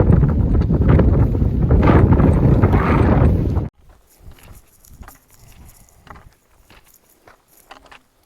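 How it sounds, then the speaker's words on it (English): Strong wind gusts roar across the microphone on a mountain trail near Kennedy Meadows for several seconds, then cut off, leaving only faint rustling. "It's still pretty windy today."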